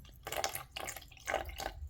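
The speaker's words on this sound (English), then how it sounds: "if I pour both at the same time, as you can see, the water is pouring" Water pours from a cup in a fluid mechanics demonstration, a soft, faint splashing trickle with gentle rising and falling surges, close and alone.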